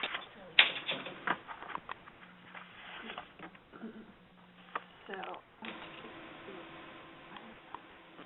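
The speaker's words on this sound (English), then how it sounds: "You can still hear someone, too, as we're typing." Keyboard keys clatter in irregular bursts of quick taps during an online meeting on grant writing, with faint voices in the background.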